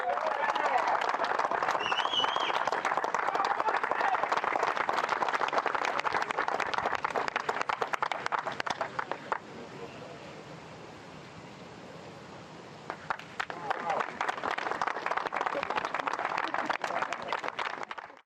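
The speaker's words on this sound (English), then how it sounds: "Gentlemen, please give a warm round of applause for our champion," A crowd applauds golf champion Matteo Manassero at a DP World Tour victory ceremony, with dense sustained clapping that dips in the middle and swells again, while an announcer speaks over it.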